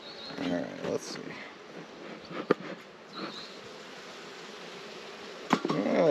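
Honey bees swarm and buzz around an opened hive box during a summer outyard check, a wavering hum that rises and falls behind a beekeeper's nearby voice and occasional handling noises.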